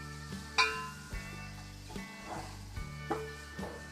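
Green onions being stir-fried in a pan for chowmein with mutton, giving a steady close sizzle under a low hum, punctuated by several sharp clinks and scrapes of a utensil against the pan.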